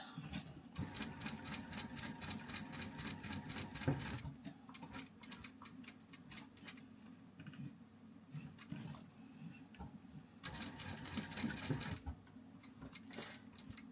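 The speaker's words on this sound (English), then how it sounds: "How does it sound with the machine going?" A sewing machine stitches around a leather-style wallet in a fast, steady mechanical chatter, pausing briefly and restarting, loud and close with no talking.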